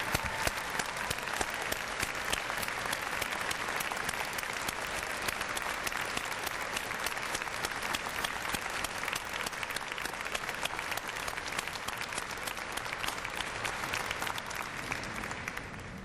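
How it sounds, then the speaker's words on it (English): Sustained applause from a large convocation audience honouring the graduates' families and supporters, a dense steady clatter of many hands clapping continuously for about sixteen seconds, with faint crowd murmur beneath. "Graduates, please join me in applauding those who have supported you."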